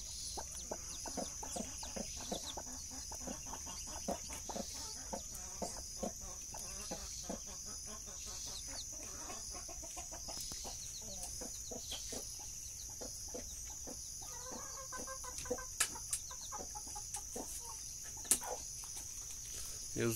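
A hen clucks among her two chicks on a farm with pigs in a cornfield, soft repeated clucks and peeps scattered over a long quiet stretch with faint insect buzz in the background.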